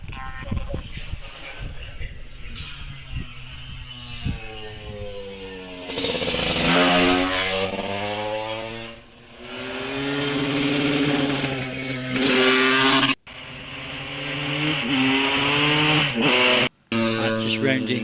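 A vintage Velocette motorcycle at the Wiscombe Park hillclimb accelerates up the hill past a corner, its engine note rising and falling through gear changes, loud and sustained, with a commentator talking over it.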